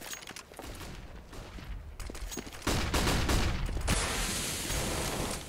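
Rapid gunfire bursts come from a Counter-Strike round on Dust 2 in a professional match. Scattered shots build into a loud, sustained volley of overlapping rifle fire in the second half, with no talking.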